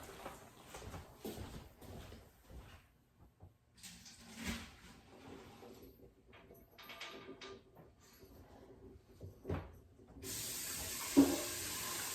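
Kitchen tap water running into a pot to rinse it, a hiss that starts late and runs steadily to the end after scattered handling clatter, with no talk.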